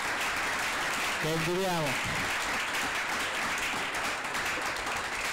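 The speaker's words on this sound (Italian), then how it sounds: "un applauso per Agatino Dadone" Applause fills a press conference presenting new football signings, broad clapping spread throughout while a voice briefly speaks over it.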